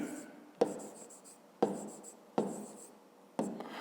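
Pen strokes scratch across paper in four short bursts during a fifth-grade math lesson, each starting with a sharp tap and trailing off. A voice speaks quietly in between.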